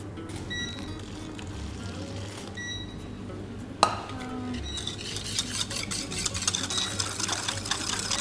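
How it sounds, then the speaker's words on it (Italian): Egg yolks are whisked with sugar in a bowl, a quiet, continuous scraping stir with light metallic clinks and one sharp knock midway. "andiamo ad emulsionare lo zucchero con i turli d'uovo"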